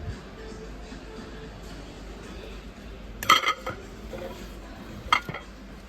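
Ceramic dishes, a bowl with a large and a small plate, are handled quietly in a shop. Two brief, bright clinks stand out against a low background hum, the first a small cluster and the second a single knock.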